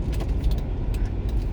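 A 3rd-generation Toyota 4Runner being driven slowly in circles to test its suspension: a steady low engine and road rumble heard from inside the cab, with light rattles and jingling on top.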